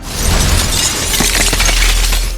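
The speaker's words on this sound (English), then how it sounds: "the glass of the interrogation room shattered" A glass interrogation-room window shatters loudly, a dense burst of breaking glass and scattering shards filling the whole moment with no voices.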